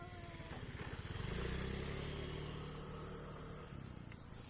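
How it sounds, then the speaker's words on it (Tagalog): A motorcycle passes close by outdoors with a loud, rumbling engine that swells and then fades, and there is no talking. "may motorcycle"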